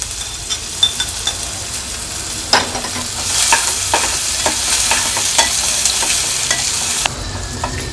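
Finely chopped onion fries in oil with crushed ginger and garlic in a pan, a loud continuous sizzle broken by repeated stirring scrapes, with no talking.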